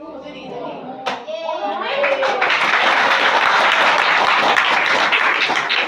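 Children in a classroom break into sustained, lively clapping that builds quickly after a brief voice and a sharp knock, with young voices mixed into the applause.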